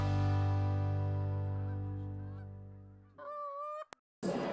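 A goose honks several times at close range, loud and drawn out, with brief pauses between calls and a short break near the end.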